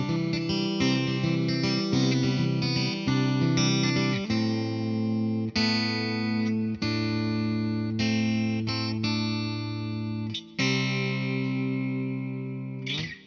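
A 2008 Gibson Longhorn Double Cut electric guitar is played through its piezo pickup, giving a bright, clear tone. Quick picked notes lead into sustained, ringing chords, played clean and loud with no talking.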